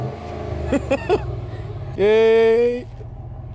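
A car floors it while towing a dolly. Engine noise rumbles under the voices of a group, then a loud rising engine roar lasts about a second as someone cheers.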